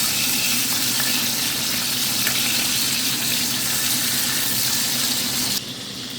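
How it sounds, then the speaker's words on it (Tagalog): Bacon sizzles and crackles steadily in a hot pan, a dense, close frying hiss that drops slightly in level near the end. "ay magluluto tayo ng bacon. Prito ng bacon."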